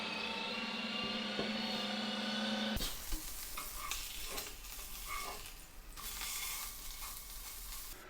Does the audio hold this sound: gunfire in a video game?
no